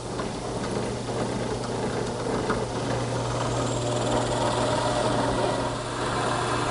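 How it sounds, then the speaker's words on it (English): A drill press bores holes through a wooden rocking chair seat set on an 8-degree platform, a steady droning motor hum with continuous cutting noise throughout, close and fairly loud. "So using the same setup at the drill press with an 8-degree platform,"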